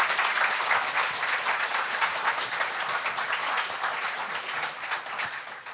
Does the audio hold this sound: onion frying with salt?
no